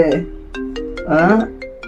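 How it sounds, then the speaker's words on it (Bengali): A melodic phone ringtone plays nearby, a short electronic tune of sustained tonal notes with sharp note onsets, fairly loud. "এখন আবার কে ফোন করে"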